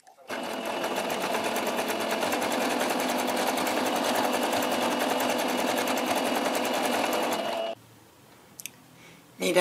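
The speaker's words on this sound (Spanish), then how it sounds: "Para hacer este dobladillo voy a cambiar el prensatelas por este que aquí tiene nada más como un rodillito" A sewing machine hems fleecy fabric through a roller presser foot, running steadily with a fast, even mechanical whir for several seconds before stopping, followed by a few light handling clicks and a voice.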